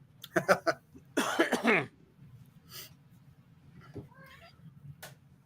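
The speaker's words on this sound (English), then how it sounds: "Who's that kitty?" A cat lets out a drawn-out, wavering meow up close, after a few coughs and throat clearing, then soft faint sounds in a quiet room.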